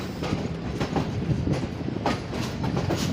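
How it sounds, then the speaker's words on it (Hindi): Karakoram Express rolling into Khanewal Junction station in Pakistan at night, a steady loud rumble of wheels with rhythmic clickety-clack beats over rail joints throughout. "अब कराक्रम एक्सप्रेस अराइवल कर रही है खानेवाल जंक्शन रेलवे स्टेशन पर।"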